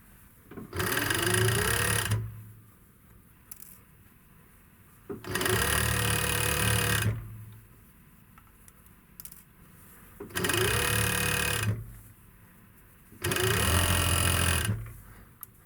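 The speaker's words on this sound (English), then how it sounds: "Now sew the second side." A sewing machine stitches the second side of a simple skirt in four separate bursts of rapid mechanical whirring, each about two seconds long, with quiet pauses between them and no talk.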